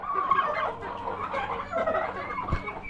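Chickens cluck near a backyard coop, a busy, close chorus of overlapping clucks and squawks with a sharp thump near the end, no talk.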